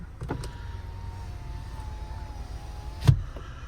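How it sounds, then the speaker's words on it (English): An electric car window on a 2024 Honda Civic Touring hums smoothly as it moves, ending with a soft thump, then quiet cabin noise. "So they have power windows."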